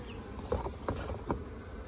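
Honey bees hum in a dense, steady buzz inside a nuc hive box, close by, with a few slightly louder swells.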